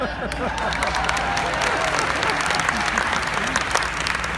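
A conference crowd at a keynote applauds loudly and steadily, dense clapping with some cheering mixed in throughout.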